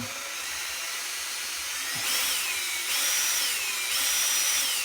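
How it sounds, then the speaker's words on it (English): A power drill whirs steadily at close range while removing the front master cylinder of a 1975 Norton Commando, its high whine rising in bursts as the speed picks up. "you want to keep your hand on this side of the drill"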